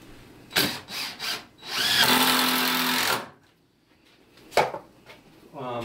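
A handheld power drill drives screws into 2x4 wood for a shrimp tank rack, with a couple of short bursts and then a longer sustained whir, followed by clicks and handling noise.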